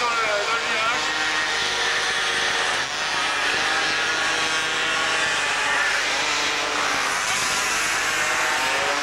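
Small 50cc scooters race through a turn at a regional championship in Épinal, a steady high-pitched buzz of several two-stroke engines packed together, loud and continuous, with a commentator talking over it.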